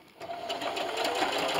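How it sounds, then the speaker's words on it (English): A sewing machine stitches a keyboard wrist rest, starting up after a brief quiet moment and then running in a close, steady, fast whirring hum. "and just keep sewing."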